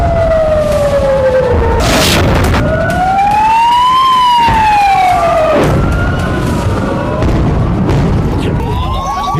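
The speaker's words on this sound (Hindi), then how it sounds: "कलेजे को चीर देने वाली अलर्ट सायरन की आवाज" A loud alert siren rises and falls in long wailing sweeps through a night rocket and missile attack, with booming explosions and rumbling blasts beneath it and no voices.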